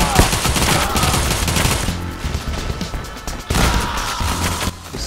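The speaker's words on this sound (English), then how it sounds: "This automatic pistol is good." Rapid automatic pistol fire from the shooter Payday The Heist rattles in dense, loud bursts amid gunfire from other weapons, with a short pause midway before the shooting resumes.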